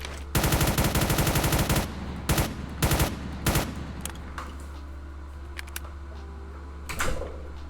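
Rapid automatic gunfire from a video game rattles in a dense burst, followed by scattered single shots and short volleys, fairly quiet overall with pauses between.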